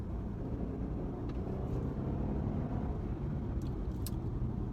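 A Genesis G80 sedan accelerating in sport mode on a highway, heard from inside as a steady, dense low engine and road rumble that holds evenly throughout, with no talking.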